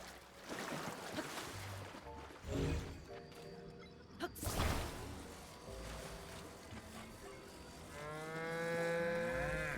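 A cow in the video game Zelda: Tears of the Kingdom gives a couple of low moos amid game sound effects, thumps and a crash, ending in a long rising tonal game sound, moderately loud and without talk.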